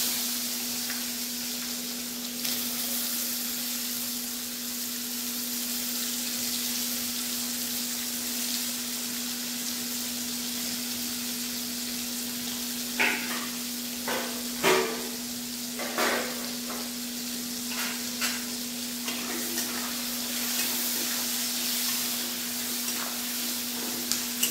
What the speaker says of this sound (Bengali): এবার এই কুচো করে রাখা পেঁয়াজ আর টমেটোটা দিয়ে দেবো।